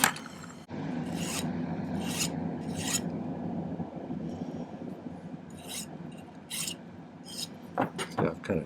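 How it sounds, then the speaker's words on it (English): A silver piece for a butterfly pendant is hand-filed at a jeweller's bench, giving steady close rasping strokes with a few sharper scrapes, and no speech is heard. "cut that and file that so it fits nicely up into there"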